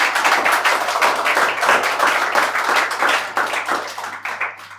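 Audience clapping at a spoken-word storytelling performance in a studio, a dense, steady patter of many hands sustained throughout and tapering slightly near the end, close and fairly loud.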